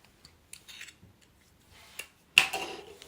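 Scissors snip yarn during crochet work, a few quiet clicks followed by one sharper, louder cut near the end, close up in an otherwise quiet room.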